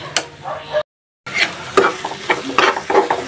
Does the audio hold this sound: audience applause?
no